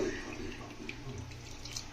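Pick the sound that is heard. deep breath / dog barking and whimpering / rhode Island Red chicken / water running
water running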